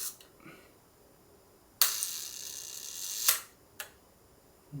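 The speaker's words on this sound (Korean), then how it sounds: "이거는 이제 컴포 셔터, 항상 렌즈 밑에 이렇게 컴프라고 써놨어요." An F. Deckel Compur lens shutter fires close up: a sharp click opens into a bright hiss lasting about a second and a half, closing with another click, then a single short click follows in a quiet room.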